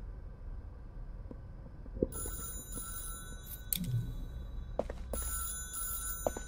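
A telephone rings in the video game Beholder 3, with bursts of an electric bell trilling in repeated pulses over a quiet low hum and a few soft thumps.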